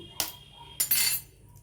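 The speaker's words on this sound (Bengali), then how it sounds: "ডিমটা ফাটিয়ে দিচ্ছি" A chicken egg is cracked against a bowl. A sharp close tap is followed a moment later by a second knock and a brief crunchy break, with no talk.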